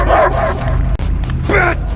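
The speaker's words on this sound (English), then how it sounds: "I hear only barking!" Cosmo, the dog from the Guardians of the Galaxy game, barks loudly and close in a quick burst at the start, then a second yip-like bark follows after a short pause.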